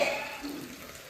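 Black pomfret fish fries in a pan at home, a soft, steady sizzling hiss that fades slightly over the short stretch, heard close with no talk.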